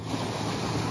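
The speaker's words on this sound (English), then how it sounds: "Listen to that water." Water rushing outdoors along a hiking trail, a steady broadband wash heard close and loud for a brief moment with no voices.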